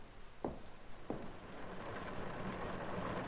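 Steady rain patters on a surface with a continuous soft hiss, and two faint knocks near the start.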